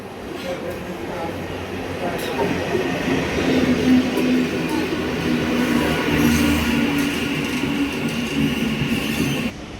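A Sealdah–Ranaghat local train rumbles along steadily for several seconds, wheels rattling with a high squeal, heard from inside the carriage with faint voices.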